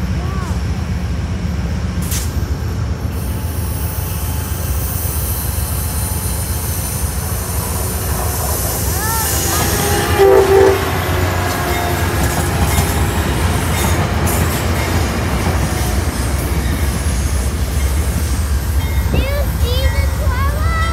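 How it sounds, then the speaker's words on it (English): A Tri-Rail commuter train rolls loudly into West Palm Beach station, with a steady heavy rumble, rail clatter and faint wheel squeals; voices occasionally talk over it. "Here comes the Tri Rail train."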